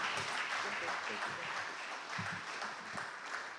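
An audience applauds at a technology event in Nigeria, a steady patter of clapping from many hands spread through the room, moderately loud and continuous throughout.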